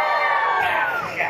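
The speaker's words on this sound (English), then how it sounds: "I want to hear you scream" At a Harry Potter show in a theme park, a crowd screams and cheers together, a loud sustained wave of shouting voices that swells and then starts to fade.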